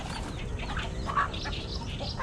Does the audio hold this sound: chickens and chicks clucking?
yes